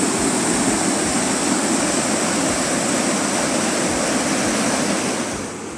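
Water rushes loudly and steadily through the rocky Garganta de Cuartos gorge near Losar de la Vera in Spain, a dense roaring wash close by, easing slightly at the very end.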